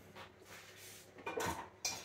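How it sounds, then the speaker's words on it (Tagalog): A cooking pot lifted from among dishes in a home kitchen, giving a few faint metallic clinks and scrapes that build to clearer clanks toward the end. "So itong kaldero na lang po yung gagamitin ko."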